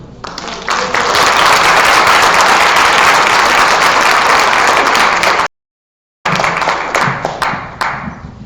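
A standing audience applauds panelists at a women's empowerment summit, loud sustained clapping from a full room that cuts out briefly, then resumes and gradually thins toward the end.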